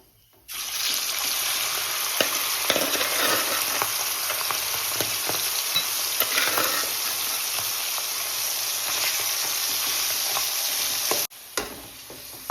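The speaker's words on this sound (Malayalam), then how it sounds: "ബാക്കിയിരിക്കുന്നത് നമുക്ക് ഇതേപോലെ വറുത്തെടുക്കാം" A steady, loud hiss of prawns frying in oil fills the whole stretch, with small pops and crackles, cutting off briefly near the end.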